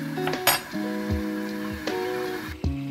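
Metal lid set back onto a cooking pan, a few ringing clinks and clatters with a short metallic resonance, close by, over a faint background hiss.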